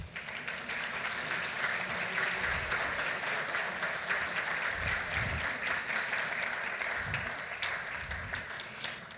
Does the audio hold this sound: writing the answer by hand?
no